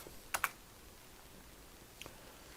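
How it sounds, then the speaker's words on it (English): Typing the xref command on a computer keyboard: a quick pair of sharp key clicks, then a pause and a couple of softer taps, quiet and close in an otherwise silent room. "Now I'm going to type in the command for external reference, xref."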